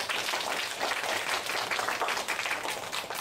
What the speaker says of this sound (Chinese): 来请各位给这个卡片掌声一下吧。